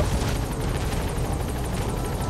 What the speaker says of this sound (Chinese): 好的，直升机也来支援我们了，火力已经很充足了